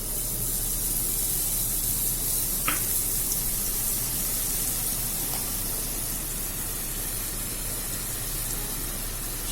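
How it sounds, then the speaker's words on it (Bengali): Red bundia batter drips through a strainer into hot oil, making a continuous loud frying hiss with a faint tick or two, no voices. "এখন আমি জালিটাতে রেড কালার বুন্দিয়াগুলো দিয়ে দিচ্ছি।"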